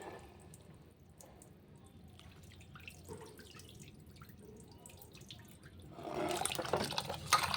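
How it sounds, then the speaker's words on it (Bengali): Rice is rinsed in water before cooking. Quiet drips and small sloshes come first, then a louder rush of running, splashing water in the last couple of seconds, with no talk. "তো চলো ভালো করে চালটা ধুয়ে নিই, ধুয়ে ভাতটা বসিয়ে দিই।"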